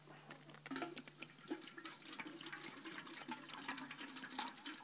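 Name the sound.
pouring watermelon wine mixture into a pot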